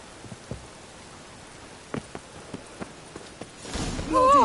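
Steady rainfall in a town street in The Witcher 3 makes a soft, even hiss, broken by scattered footstep-like thuds, then swells louder toward the end as a voice briefly begins.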